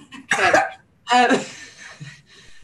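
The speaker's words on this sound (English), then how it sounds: "We all got the flu over here and we're coughing." Two harsh coughing bursts, close and loud, separated by a short pause, followed by faint throat sounds.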